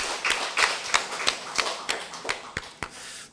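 Scattered, sparse hand claps from a church congregation at a sermon, about a dozen sharp separate slaps spaced unevenly, fairly close and with no one talking.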